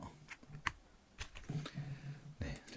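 Computer keyboard keys are pressed for a Ctrl+R shortcut, a few quiet separate clicks and taps spread over a couple of seconds.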